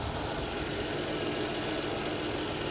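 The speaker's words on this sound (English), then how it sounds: "The engine's warming up right now" A car engine, apparently a Mercedes at an auction yard, idles while warming up, a steady dense rumble with fine rapid knocking, close and continuous, without talking.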